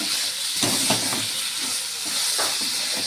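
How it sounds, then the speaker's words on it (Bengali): An egg frying in spiced masala in a pan makes a continuous, close hissing sizzle with faint scraping stirs throughout. "এই ডিমটা দিয়ে একটু ভাজা ভাজা করবো মশলাটাকে"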